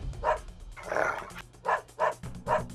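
A dog barks several times in short, sharp bursts, close by, with brief pauses between barks.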